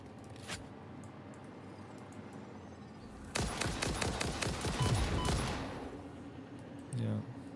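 Rapid gunfire in the factory-building video game Satisfactory, heard as a tight burst of repeated shots firing at the player, loud and close, following a quieter stretch with a few isolated clicks.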